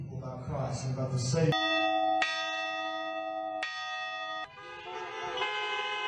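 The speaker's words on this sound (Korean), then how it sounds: "종소리에 맞춰 넓은 주차장에 모인 차들이 다 함께 경적을 울리고" A church bell strikes in long, ringing tones at a drive-in church, while a parking lot full of cars honks along with it in sustained blasts. Voices are heard briefly at the start.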